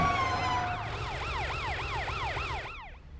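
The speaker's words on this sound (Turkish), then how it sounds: "Bu polis arabası Matt." A police car siren in a children's cartoon wails loud and close in rapid rising-and-falling sweeps, then cuts off abruptly near the end, with a low engine-like hum beneath it.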